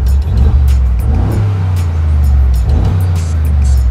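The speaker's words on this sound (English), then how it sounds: "you will hear the roar of this big twin turbo V8, especially when you turn on the exhaust from that button and you give it" Mercedes-AMG G63 4x4 Squared with its twin-turbo V8 and switchable exhaust, rumbling loudly close by with a deep, steady engine drone and small surges in revs throughout.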